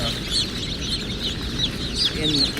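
Newly hatched Cornish Cross chicks peep and chirp repeatedly in a high pitch at a hatchery, a continuous soft chorus of small birds over low background noise.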